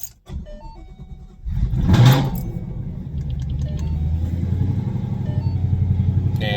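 A Mustang's engine cranks and catches with a loud burst, then settles into a steady, deep idle rumble close by, with no talking.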